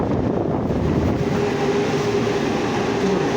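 A Valley Metro streetcar in Tempe, Arizona, rumbles steadily while running, a dense low rolling noise heard from on board with no breaks or talking.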